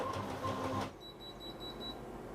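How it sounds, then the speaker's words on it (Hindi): A Canon imageCLASS LBP214DW laser printer starts a print job, with a loud mechanical whir for the first second, then a quieter steady running hum with faint high tones, close by. "तो देखिए प्रिंट आउट स्टार्ट हो गया।"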